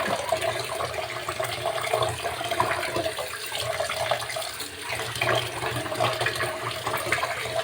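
Raw chicken rinsed under running tap water, a steady broadband splashing and gushing that holds evenly throughout, close and fairly loud with no talking.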